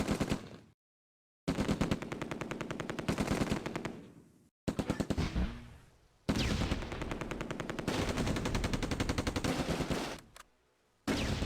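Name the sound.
anti-tank gun and mortar fire in Close Combat video game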